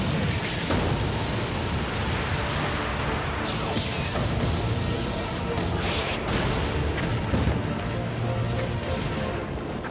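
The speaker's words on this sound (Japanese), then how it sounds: "ボッちゃん奪還を祝しての特大打ち下ろし花火だ" A dense, continuous roar of explosions and booming blasts crackles loudly throughout, like big fireworks bursting one after another without pause.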